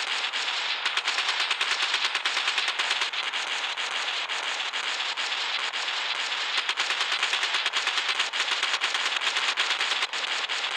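Sustained minigun fire in the video game Gunship Battle, a dense, continuous rapid rattle of shots running loud and steady throughout with no talk.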